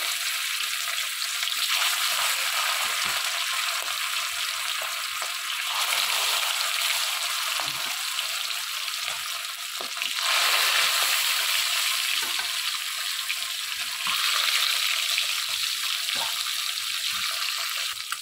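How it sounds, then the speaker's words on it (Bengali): Steady, loud sizzling of fish frying in mustard oil continues throughout, swelling and easing in waves, with occasional soft clicks and bubbling. "এবার আমি এতে মাছগুলো ভেজে নেব"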